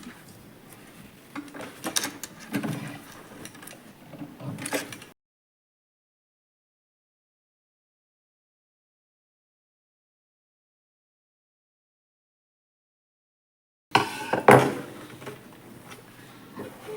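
A home sewing machine stitches a shirt collar in two bursts of close mechanical whirring and clicking, the first running about five seconds, then a long silence before a second burst resumes.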